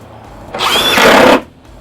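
Milwaukee 12V impact driver in self-stop mode drives a self-tapping screw into drywall, one loud, close burst of rapid hammering buzz lasting under a second, then cutting off abruptly.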